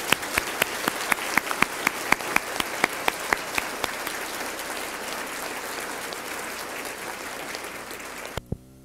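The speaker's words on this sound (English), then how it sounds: "Arms are going to be tired tonight from all this clapping." Applause from a seated audience at a women's awards ceremony, dense steady clapping with a few sharper individual claps standing out, fading toward the end before stopping abruptly.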